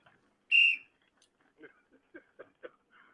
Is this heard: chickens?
no